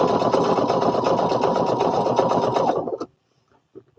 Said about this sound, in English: And now I'm sewing it together.